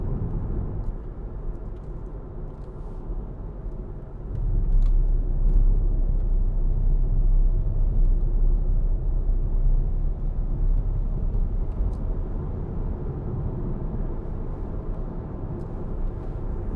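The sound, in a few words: Hyundai ix35 2.0 CRDi diesel accelerating, heard from inside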